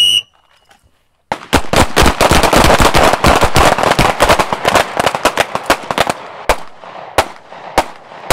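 A handgun fires a rapid string of loud, sharp shots during a shoot-while-moving drill, following a second of quiet, then the shots thin out to a few spaced final reports.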